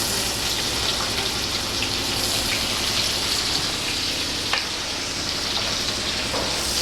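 Chopped onion fries in mustard oil with whole cinnamon, cardamom and bay leaves, giving a steady, close, hissing sizzle that runs evenly throughout, with occasional small pops and no talking.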